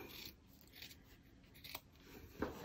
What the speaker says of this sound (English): just take your scissors and trim this corner